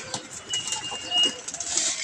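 Pigeons kept in a rooftop loft coo softly in repeated low calls, with faint bird chatter and a background hiss, moderately distant.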